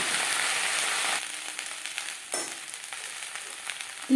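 Onion stalks (peyaj koli) with turmeric frying in a pan on a low flame make a steady crackling sizzle that drops to softer, intermittent spitting and a few light clatters partway through.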